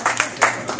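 Audience applause at a comedy roast celebrating a bakery and cafe anniversary: a few scattered, uneven claps close by, brief and moderately loud, with a faint voice mixed in.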